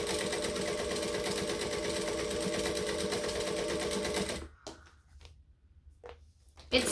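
Sewing machine stitching an Everyday Tote bag, a loud close rapid chattering hum for about four seconds, then stopping into near silence broken by a few small clicks and a bump.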